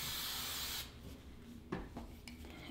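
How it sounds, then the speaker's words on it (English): Hairspray hisses in a close, steady burst for under a second while being sprayed onto hair, followed by quiet rustling and a few soft taps. "We're gonna give it a quick spray."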